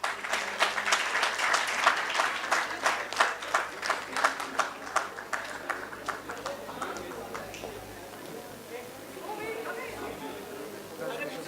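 Applause from the audience at a convocation ceremony for an MBA batch at an army management institute, dense clapping that fades gradually to a thinner patter by the end.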